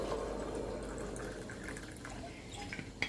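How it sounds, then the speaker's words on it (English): Vinegar pours into a container in a continuous low liquid rush and gurgle, with faint clinks toward the end, recorded fairly close. "Just fill it with the vinegar"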